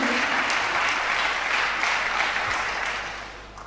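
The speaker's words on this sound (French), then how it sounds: "Est-ce qu'on peut acclamer Jésus?" Church congregation applauding Jesus after a prayer testimony, a steady burst of clapping from a crowd lasting a few seconds and fading out toward the end.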